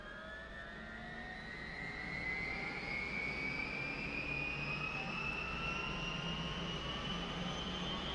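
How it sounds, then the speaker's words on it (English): A helicopter's rotor blades spin up during engine start, producing a close, steady turbine whine whose tones climb gradually in pitch over a low, rumbling drone. "Rotor blades turning as we approach 15."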